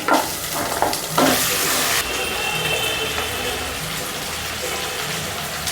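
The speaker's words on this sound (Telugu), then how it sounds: "అల్లం వెల్లుల్లి పేస్ట్ వేగిన తర్వాత చికెన్ వేసుకుని" Chicken frying with ginger garlic paste in a pot for pot biryani, a loud continuous sizzle with stirring scrapes near the start, then a steady hiss, close.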